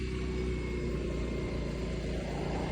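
A motor vehicle drives slowly around a rural cemetery in the Philippines, its engine a steady, close, continuous hum and rumble with no pauses.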